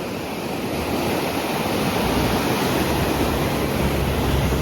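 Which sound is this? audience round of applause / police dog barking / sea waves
sea waves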